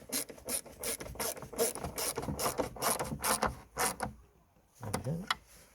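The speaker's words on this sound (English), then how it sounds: "we're gonna secure the light with two 8mm bolts" A ratchet clicks in quick repeated bursts while tightening 8mm bolts securing the tail light on a 2005 Vauxhall Opel Corsa, close by, followed by a pause and a short final burst.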